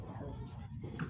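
An exotic bully dog whimpers and yips briefly at a busy pet market, soft whining notes close by beneath someone talking over it.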